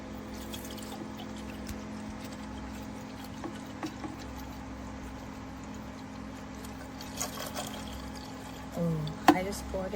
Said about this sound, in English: And you're just going to pour water in this,